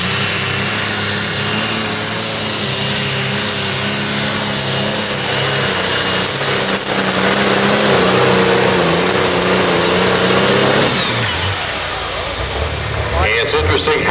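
A pulling tractor at the Georgetown tractor pull roars loudly and steadily for about eleven seconds, its engine note holding high before cutting off sharply, with an announcer talking over the noise.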